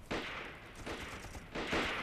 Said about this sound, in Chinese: 院子怎么有枪声啊？